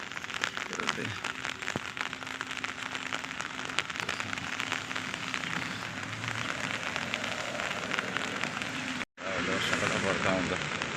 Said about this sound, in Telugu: వర్షం పడుతూ ఉందండి త్రీ డేస్ నుంచి